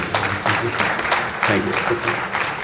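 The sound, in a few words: audience applause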